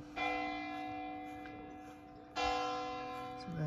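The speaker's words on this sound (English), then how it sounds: "And it's 10 o'clock. If you can hear the bells." Church bells striking ten o'clock, heard outdoors from a garden: two long ringing strokes with a slowly decaying metallic hum, loud and resonant, the second stroke arriving about two seconds after the first.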